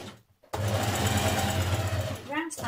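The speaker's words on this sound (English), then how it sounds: "You're going to do a line of stitching for the ease along here." A domestic sewing machine runs a long basting line on shirt fabric, set to its largest stitch: a steady, close, loud mechanical whirr that starts abruptly after a short pause and continues, with a voice speaking briefly near the end.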